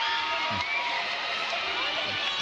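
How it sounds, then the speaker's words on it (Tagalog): A packed arena crowd roars loudly and continuously at a professional women's volleyball match in the Philippines after a long rally, with dense cheering and shouting sustained throughout. "Listen to this crowd roar"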